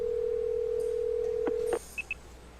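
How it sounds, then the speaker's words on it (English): A phone number being dialed on a mobile phone: a steady dial tone runs for nearly two seconds, broken by a couple of quick key tones, then two short, distinct beeps follow alone in a quiet room. "I pull out my phone and dial the first name that comes to mind"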